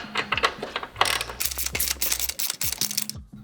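Mechanical ratcheting and clicking while bolting a front splitter onto a Honda Civic Type R FK8 crash beam, with irregular close clicks and rattles of tools and parts, no talking.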